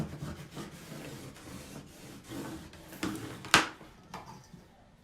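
Quiet rubbing and sanding strokes smooth a plywood and wood frame being readied for gold paint, soft scraping passes repeating irregularly, with a couple of sharper knocks and scrapes near the end.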